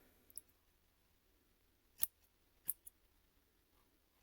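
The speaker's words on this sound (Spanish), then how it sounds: "ahora voy a continuar cortando el hilo" Scissors snip crochet yarn on a giant crocheted sunflower, giving two or three sharp, isolated clicks spaced apart against near silence, quiet and close.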